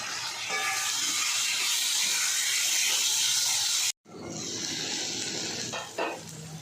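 Chopped onion frying in hot oil with fish head and potatoes in a pan, a strong hissing sizzle that cuts out briefly, then resumes with a few clinks of stirring.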